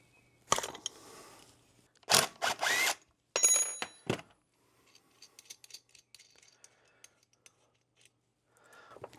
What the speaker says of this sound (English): then you can use your wrench to turn it in.